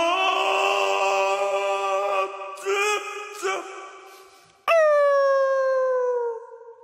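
A person imitates a puppy, producing long, tonal whining howls broken by short yelps, then a final sliding howl that fades away.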